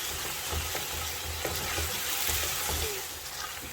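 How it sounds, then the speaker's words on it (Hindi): Garlic, ginger and green chili paste frying in a pan, giving a steady close hiss and sizzle with faint scraping stir sounds throughout. "इसको भी अच्छी तरह से हम थोड़ा हल्का सा फ्राई कर लेंगे।"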